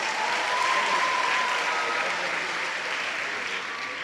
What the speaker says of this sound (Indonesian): Tepuk tangan untuk Fakultas Ekonomi Bisnis.